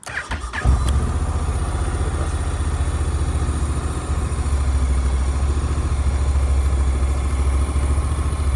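After a brief clatter of starting, a Honda NC750X motorcycle engine settles into a steady, close idle that rumbles evenly to the end.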